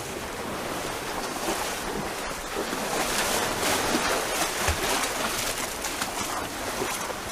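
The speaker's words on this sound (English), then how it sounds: "Even now there's still some backwash coming off of the wall, so you just got to be careful with splashes and stuff." Waves wash against a sea wall at Sandy Lane Bay, with backwash pouring off it in a steady, close, continuous roar of surf and hiss.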